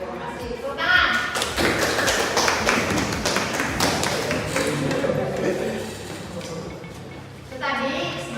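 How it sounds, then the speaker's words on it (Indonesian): Students in a classroom give a round of hand clapping, a dense burst of claps lasting several seconds with loud onset, then tapering, while voices are heard alongside. "Terima kasih. Tepuk tangan."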